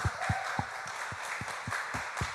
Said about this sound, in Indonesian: Tepuk tangan dulu dong buat PSM Makassar